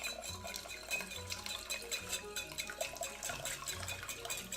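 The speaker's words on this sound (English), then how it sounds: "And whisk, whisk, whisk your day away, amigos. Whisk it up and shake it." Quick rhythmic whisking of cocktail syrup with melted butter in a bowl, a steady clattering metallic scrape of whisk against the bowl, close and continuous, with faint liquid sloshing.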